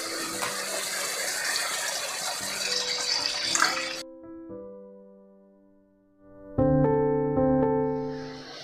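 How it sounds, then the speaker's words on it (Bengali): Water is poured into a cooked-down curry masala for a Bengali hilsa fish jhol as a few seconds of close, rushing gush, which then stops; steady tones follow. "এবার পরিমাণ মতো জল দিয়ে দেব।"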